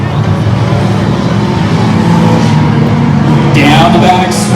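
Hornet class stock cars race down the back straight at Evergreen Speedway, a steady loud engine roar filling the whole stretch with a louder car swelling near the end, while an announcer talks over it.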